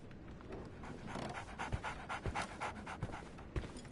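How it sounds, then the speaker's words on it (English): A dog pants quickly and steadily in the Sherlock Holmes detective video game, a soft rhythmic huffing at moderate distance that keeps going over a quiet background. "So, Barnes has a dog now."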